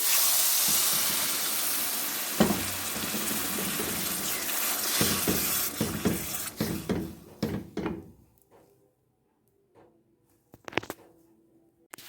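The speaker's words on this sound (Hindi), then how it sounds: "और साथ ही मैं शामिल करने लगी हूँ जी पानी।" Water is poured into a hot pan of semolina halwa and bursts into a loud, sustained steamy hiss and sizzle, then crackles and pops that thin out and fade to near silence with a few late clinks.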